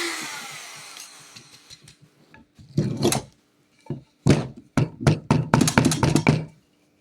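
Wood router bit recutting channels in a kit-built wooden guitar body: scattered short knocks and scraping bursts that build into a dense run of loud, rapid cutting pulses, then stop abruptly.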